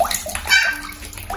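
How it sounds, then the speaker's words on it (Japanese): Water sloshes and splashes in a bath while a tiny micro teacup puppy is washed, continuous wet movement close by with a voice faintly mixed in. "プティ、シャンプーしよう。"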